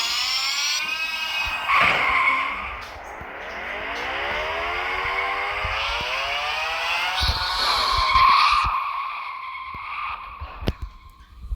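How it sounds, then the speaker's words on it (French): A car skids and spins out in a racing video game, with long, rising and falling tire squeals over steady engine noise, loud and continuous, then ending in a few sharp knocks. "Wow, le véhicule est parti en vrille."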